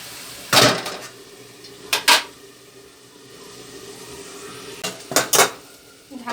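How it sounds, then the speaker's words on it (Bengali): A metal lid goes onto a cooking pot of taro, heard as loud close clanks of metal on metal in a few separate bursts, with quiet background sizzle between them. "যে কচু থেকে অনেকটা জল বেরিয়েছে, আমি একটু ঢেকে রাখছি।"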